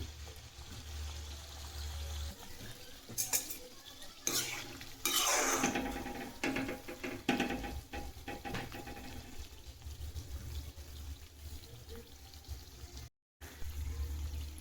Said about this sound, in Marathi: आपल्याला आता हे चांगलं गोल्डन ब्राऊन होईपर्यंत तळून घ्यायचं आहे।